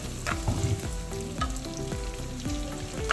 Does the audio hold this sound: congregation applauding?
no